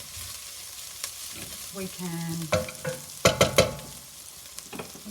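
Softened onion sizzling and being stirred in a pan for a bolognese sauce, steady gentle frying hiss with scraping utensil strokes and a few clinks, close up, one brief spoken word.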